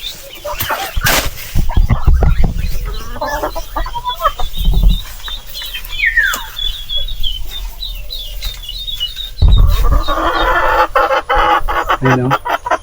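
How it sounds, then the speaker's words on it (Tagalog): Egg-laying hens on a small farm cluck steadily and nearby, with repeated clucks and soft calls throughout, broken by a few louder bumps and rustles. "Meron mga nangingitlog mga kaparmas."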